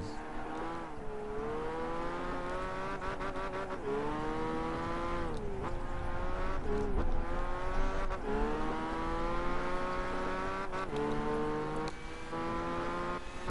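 Racing engine in Gran Turismo 5 at the Grand Valley endurance race, a Skyline coupe, rising and falling in pitch as the throttle is feathered through corners, with short tire squeals, steady and close.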